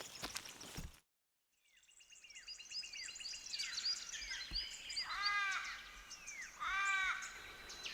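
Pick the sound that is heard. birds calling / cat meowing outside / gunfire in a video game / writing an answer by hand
birds calling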